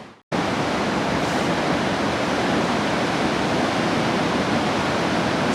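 After a brief moment of quiet, river water swirls and churns through potholes in a canyon on the route from the Columbia Icefield to Jasper. It makes a loud, steady, close rushing roar with no voices.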